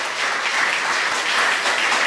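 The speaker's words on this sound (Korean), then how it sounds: "하나님께 영광의 박수 올려드리겠습니다" A worship congregation applauds together, a steady, even wash of clapping from many hands filling the room throughout, with no break or voices rising above it.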